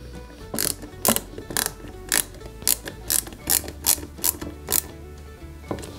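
A small AM screw being driven into a plastic fender on a Peugeot 205 GTI 1.9 scale model: a series of sharp ratcheting clicks from a screwdriver, about a dozen irregularly spaced bursts, close and fairly loud with no talk.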